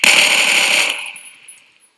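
A loud sniper rifle shot in the shooter game Phantom Forces cracks close up, then rings out into a fading tail that lasts about a second.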